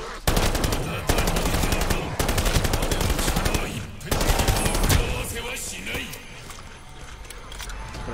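Gunfire from a new weapon in Call of Duty: Vanguard zombies mode rattles in rapid automatic bursts with short gaps, loud and close. Talking runs alongside the shooting, which thins out toward the end.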